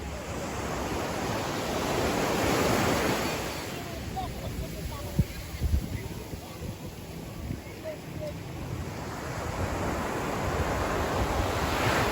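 Ocean surf rolls in steady washes, a broad continuous rush that swells and recedes, with wind buffeting the microphone.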